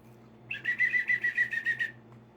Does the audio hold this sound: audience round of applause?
no